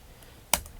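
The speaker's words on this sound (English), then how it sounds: "let's type ident" A single sharp keystroke on a computer keyboard while entering a call-sign command on an amateur radio direction-finding transmitter, heard once as a brief click after quiet.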